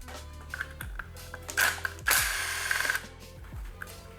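Bolt being worked loose from the stator cover of a Suzuki DRZ400 with a cracked case, close ratcheting and metallic tool clicks with a brief whirring burst in the middle, no voices.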